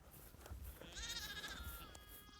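Shetland sheep and lambs bleating outdoors, one drawn-out wavering bleat rising above a steady background of flock noise and wind, fairly faint and distant.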